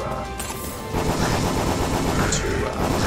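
A magic staff in the Ziggurat video game fires like an assault rifle, giving a loud, continuous stream of rapid gunfire-like bursts that thickens midway and keeps going without a break.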